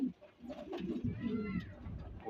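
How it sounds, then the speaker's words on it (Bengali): A pair of pigeons at home coos in low, soft, rolling calls, close by, with short pauses between bursts and a little faint voice-like sound mixed in. "আমার ঘরের এক জোড়া রেখার কবুতর"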